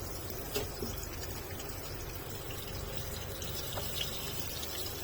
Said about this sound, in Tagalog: And then, lagyan natin ng tubig.